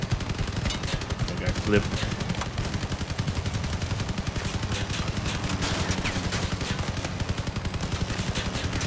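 Fifteen imp machine guns firing nonstop in a vehicle combat game, a dense rapid rattle of overlapping gunfire throughout, with a player speaking briefly over it.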